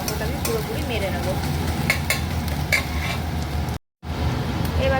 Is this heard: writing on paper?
no